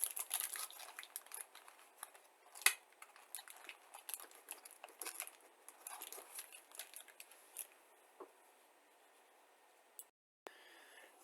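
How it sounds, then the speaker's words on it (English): Small plastic fasteners from a Tamiya 1/35 M5A1 Stuart tank model kit come out of plastic bags with close, irregular crinkling, rustling and light clicks, busy at first and then thinning to sparse ticks and near silence. "I took a pause there while I removed the Hotchkiss fasteners from the plastic bags"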